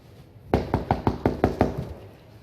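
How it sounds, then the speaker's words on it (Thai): A bowl is knocked on in a Thai comedy stage sketch: seven sharp, evenly spaced raps in quick succession, close and fairly loud, with no talk over them. "ใส่ชามอีกชามเลย เคาะ"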